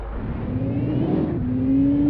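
An electric bus running, likely in a bus driving simulation game, with a steady rising mechanical whir and engine drone that climbs in pitch and holds loud and close throughout, with no talking.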